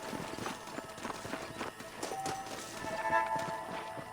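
Horses' hooves clip-clop steadily on the ground in the Western video game Red Dead Redemption, a busy rhythm of several animals moving at a walk, fairly close, with faint game ambience around them.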